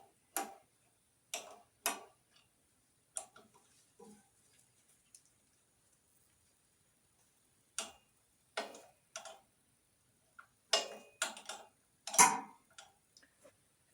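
A 1/2-inch wrench snugs a carburetor on a Ferguson TO-20 tractor, giving faint, sparse metallic ratchet clicks in short bursts separated by quiet pauses.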